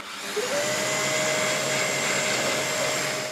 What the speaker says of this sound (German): Und hier bohren wir die 10 mm rein.